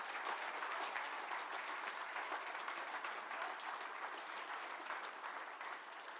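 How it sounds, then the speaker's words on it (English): Sustained applause for PhD graduates at a virtual university graduation ceremony, a dense, steady patter of many hands clapping at moderate volume throughout, with no voices over it. "please, a round of applause for our very special PhD graduates"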